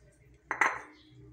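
Metal pots and a pressure cooker clank twice in quick succession in a home kitchen while chicken kebab and dal are being prepared, fairly close and otherwise quiet.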